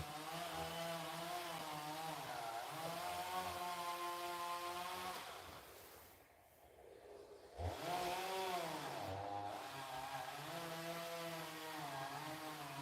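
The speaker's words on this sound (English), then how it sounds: "we'll go inside soon and get you away from the horrible chainsawing sound" A chainsaw runs steadily and loudly outdoors with a strong humming drone, cuts out briefly for about a second, then starts up again and keeps running.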